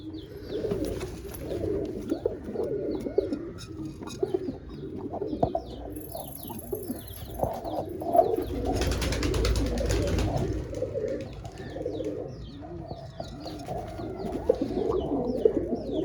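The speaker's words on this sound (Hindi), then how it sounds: "बहरहाल ये पेड़ है, थोड़ा डर गए हैं कबूतर।" Pigeons coo steadily in soft, rolling bursts amid rustling and other bird chatter, with a brief louder flurry of flapping midway.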